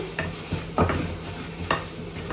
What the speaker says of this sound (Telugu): ఈ స్పైసెస్ అన్నీ మనకి కొంచెం ఈ ఫ్రై అయిన తర్వాత పచ్చివాసన పోతుంది